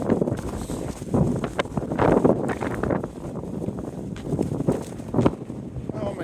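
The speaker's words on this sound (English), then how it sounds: "It's cold and windy." Gusty, cold wind buffets the microphone outdoors during an FPV drone flight, rumbling low and uneven with stronger bursts, while a voice talks through parts of it.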